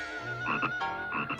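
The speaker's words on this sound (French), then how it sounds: "Oh, quelle chance, c'est un crapaud." A cartoon toad croaking in a French Smurfs episode, with a few loud, close, rasping croaks in quick succession and no talking over them.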